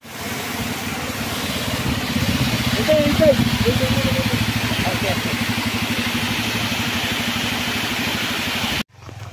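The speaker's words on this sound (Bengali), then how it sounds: "দেখো কতটা ঢালু, কতটা উপরে, বাইক উঠছে না।" A 125cc motorcycle engine labors up a steep hill road in Bhutan, a steady droning mid-pitched hum running loud and close throughout before cutting off abruptly near the end, with faint voices underneath.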